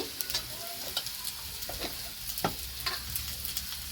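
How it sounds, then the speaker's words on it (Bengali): Mixed vegetables for bhoger labra fry in a pan with a soft continuous sizzle, while a spatula stirs them in repeated scraping clacks at close range. "এই সবজিগুলো এবার ভালো করে ভেজে নেব।"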